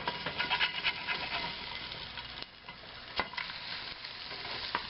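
Food sizzles steadily in a hot frying pan, with a couple of sharp clinks and scrapes as it is flipped over, the frying hiss continuing close and constant.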